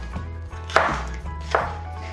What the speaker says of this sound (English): get them to help you chop the vegetables